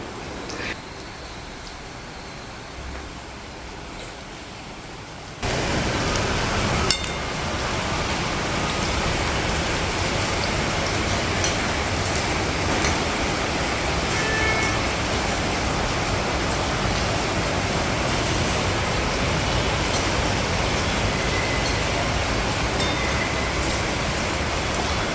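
Steady rain pours down on an open terrace, a dense, even hiss that grows heavier after the first few seconds and continues without a break; no voices are heard.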